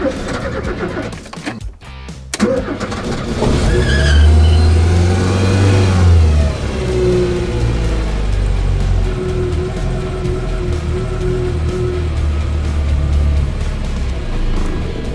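An engine cranks with the choke on, catches, and revs up loudly, then settles into a steady warming idle heard close by. A person talks over the start.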